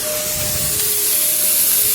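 Steady broad hiss of compressed air blowing mist and water out through inground sprinkler valves during a winterizing blowout, with faint thin whistling tones riding over the continuous rush.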